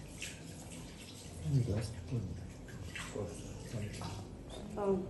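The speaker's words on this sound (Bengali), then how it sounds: "পেঁপে বারবার একটু ধুয়ে নিতে হবে" Running tap water rinses a cut papaya during a food carving class, a soft steady splash and trickle with a few drips, heard under a woman's speech.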